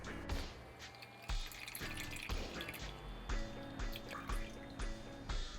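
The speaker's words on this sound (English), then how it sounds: "Do you want to pour the rest of this milk in there?" Canned milk pours from a heavy can into pumpkin pie filling, giving a close, quiet liquid trickle with repeated drips and glugs.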